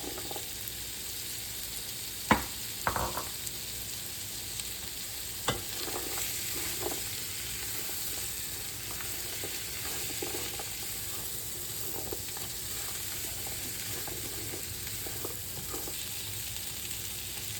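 Beef and green beans fry in a pan with a steady, soft sizzle, broken early on by a few sharp clicks and scrapes of stirring, then settling into an even hiss throughout.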